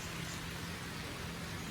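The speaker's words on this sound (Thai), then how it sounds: "ฝนตกแล้ว" Steady rain falls on Ko Lanta in Krabi, Thailand, a dense, even hiss running unbroken throughout at moderate level with no voices over it.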